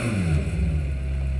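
A McLaren Senna engine recorded through a close microphone for the Forza Horizon 4 racing game idles with a low, throbbing burble, steady and near, in a short snippet.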